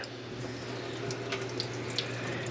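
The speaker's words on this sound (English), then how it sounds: "I now have fully running water." A household tap runs in a home where water has just been restored, giving a steady, continuous hiss and splash at close range, alone with no talking.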